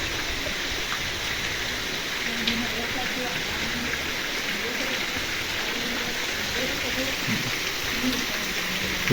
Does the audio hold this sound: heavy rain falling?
yes